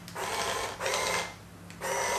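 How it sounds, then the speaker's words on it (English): A JNC tiny toy-like robot vacuum driven around by remote control, giving bursts of whirring motor and gear noise in three runs separated by short pauses, close and fairly loud, with no talking. "this is actually the sound it makes when you move around"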